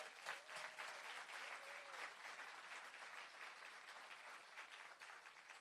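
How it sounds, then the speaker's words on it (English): An audience at a sexual harassment investigation training course graduation ceremony gives a steady, sustained round of applause, fairly faint and even, with no talk over it. "I just want to ask you again to give Candy Isaacs a big round of applause"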